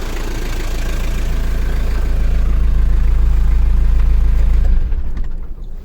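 A vehicle engine with a five-speed transmission idles loud and close in a steady low rumble, then shuts off near the end, leaving a quiet tail.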